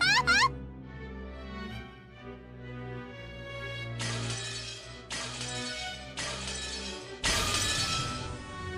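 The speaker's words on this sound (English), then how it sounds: "Stop fucking throwing glass shards at my face." Glass shatters in the Umineko visual novel video game, a bright crash at the start followed by several more loud breaking-glass bursts layered over a low, sustained musical drone.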